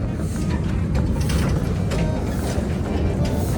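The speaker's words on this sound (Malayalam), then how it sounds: "ഓ ദേ വരുന്ന ട്രെയിൻ." Train arriving in Ooty, a continuous loud rumble and clatter of the moving carriages close by with faint rattling transients and no clear voices.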